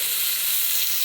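Ground cumin paste frying in hot oil in a pan: a steady, close, fairly loud sizzle with crackling hiss, continuous throughout with no talking.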